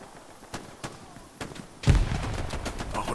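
In the video game Hell Let Loose, scattered gunshots crack across a town battle. A heavy grenade blast then booms close by, followed by a dense rumble of continued firing.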